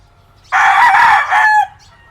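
A rooster crows loudly and close by, one drawn-out call of about a second, with a brief clucking sound trailing off after it.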